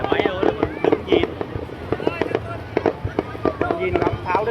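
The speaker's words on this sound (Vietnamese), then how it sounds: "Nhìn ngắm pháo đi, để máy ngắm pháo." Fireworks going off at Carnaval Ha Long 2023, a quick string of loud pops and bangs under nearby chatter from onlookers.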